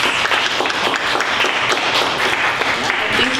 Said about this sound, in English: if we could just give a round of applause to our panelists